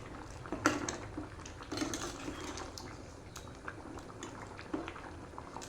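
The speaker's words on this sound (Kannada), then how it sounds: "ನೋಡಿ, ಇವಾಗ ಮಸಾಲ ಹಾಕಿ ಚೆನ್ನಾಗಿ ಕುದಿ ಬರ್ತಾ ಇದೆ." A white pea and pumpkin curry with masala boils steadily in a pot, with continuous soft bubbling and a few louder pops and clinks close by, no talk.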